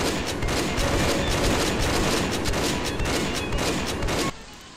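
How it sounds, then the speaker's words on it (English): Rapid bursts of gunfire from the post-apocalyptic video game Fallout 3, loud and sustained like a close firefight, then cutting off abruptly near the end. "I heard gunshots"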